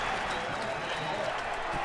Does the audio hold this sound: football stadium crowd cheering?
yes